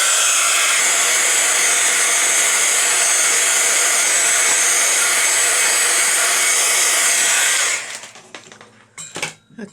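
A dryer blows a loud, steady whoosh over a piece of artwork for about eight seconds, then cuts off, followed by a few faint clatters and handling sounds.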